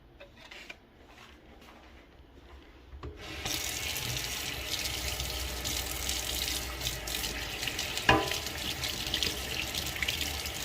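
A kitchen tap gushes steadily into a sink while grease is rinsed off a fork, starting with quiet clinks then a sudden loud continuous water rush with a brief clatter, no talking.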